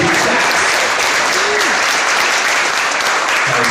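Loud, dense audience applause at a music producers showcase, continuous clapping filling the whole stretch with a faint voice or whoop briefly audible underneath.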